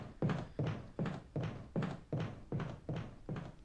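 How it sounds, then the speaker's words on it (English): Zombies pound on a window in Resident Evil HD, a steady series of about eight dull thuds at an even, quick rhythm, close and moderately loud. "There's zombies banging on the window."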